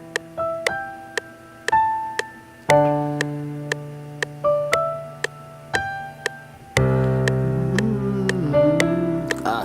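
An 808 hip-hop beat with bouncy bass and plucked, repeating notes plays in FL Studio, and toward the end a voice hums a gliding melody along with it.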